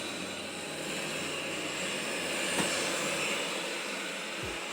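A Proscenic 850T robot vacuum makes a second pass over spilled rice with a faint, steady whirring hum, one brief sharp tick near the middle.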